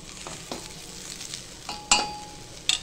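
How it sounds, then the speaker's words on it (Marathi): Ridge gourd and dal sauté in a pan with a soft, steady sizzle and a few spoon scrapes and clinks, close and fairly quiet. "आता डाळ टाकून मी दोडका परतून घेते."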